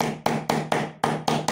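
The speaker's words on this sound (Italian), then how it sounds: "con un martello andiamo a dare dei colpetti" Seven quick, sharp hammer taps flatten staples on a round DIY wooden bedside table, struck in a fairly even rhythm, each a loud close knock with a short ring.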